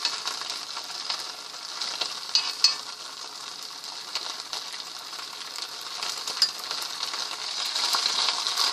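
Oil and batter sizzle steadily in a hot pan while a Vietnamese crêpe cooks, giving a continuous bright hiss with scattered crackles and a couple of faint metallic clinks, and no talking.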